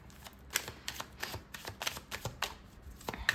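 Rapid, crisp riffling and slapping of tarot cards being shuffled, a steady run of sharp papery clicks at close range with no voices.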